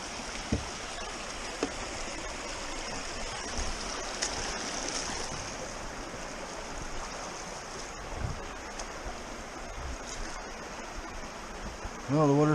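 Clear stream water flows steadily and softly at a riverside, a broad continuous wash with a few small splashes and a brief knock near the end.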